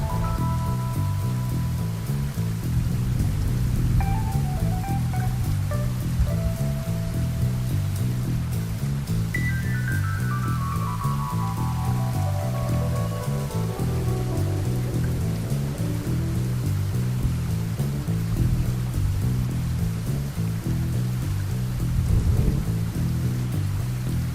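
Heavy rain pours steadily in Hanoi, Vietnam, a dense continuous hiss of drops hitting surfaces close by, with no voices over it.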